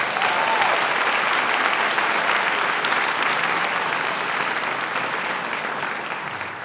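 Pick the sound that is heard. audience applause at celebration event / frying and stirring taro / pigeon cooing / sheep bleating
audience applause at celebration event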